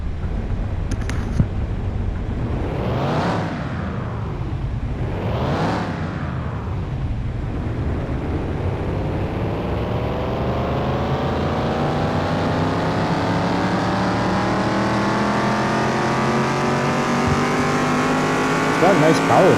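A Ford 302 small block V8 revs on a dyno in Car Mechanic Simulator 2021, climbing twice in quick sweeps, then holding a long, steady rising pull to high RPM, loud and continuous.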